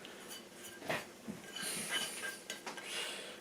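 A metal frying pan clinks and scrapes a few times on a stove at close range, with soft clatter and a brief metallic rattle, no voices.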